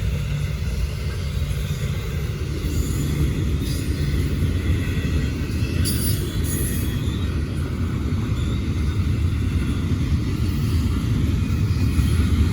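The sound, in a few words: Norfolk Southern heavy freight train passing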